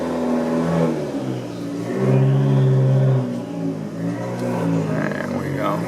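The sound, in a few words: Fiat 500 Abarth engine accelerating on the road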